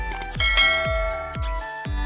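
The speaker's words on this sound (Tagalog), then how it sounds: "I-hit mo na rin ang notification bell para lagi kayong updated sa mga susunod na video." A notification bell sound effect chimes four times in a steady rhythm, each ring a bright, close metallic strike with a sustained tone that fades out, and nobody talks over it.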